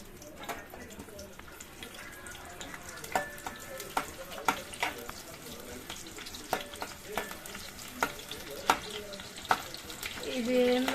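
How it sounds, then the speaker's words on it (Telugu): Green chillies and onions frying in hot oil for a quick chicken curry, a low steady sizzle punctuated by repeated spoon clinks against the pan, with a faint voice near the end. "ఫ్రై చేసుకుందాం."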